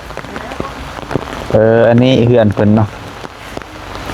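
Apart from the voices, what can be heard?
heavy rain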